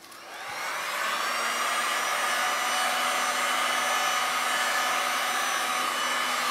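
A heat gun heats blue resin poured on a wood round, ramping up within the first second into a loud, steady close whirring roar that holds unbroken to the end.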